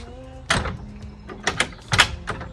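A door at a house's side entrance off a quiet street is pulled shut. It gives a sharp clunk, then a few lighter knocks and rattles, moderately close.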